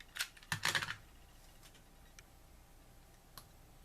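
Scissors or a paper trimmer cutting card paper for a craft project: a quick cluster of sharp snips and clicks near the start, then a few faint isolated ticks in a quiet room.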